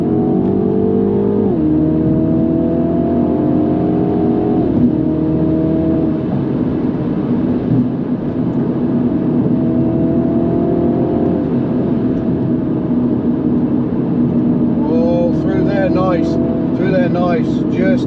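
A 2024 Mini JCW, F56 LCI 2, pulls hard under acceleration with a loud cabin engine drone, stepping through paddle-shifted manual gear changes as the pitch climbs and drops. A voice speaks near the end.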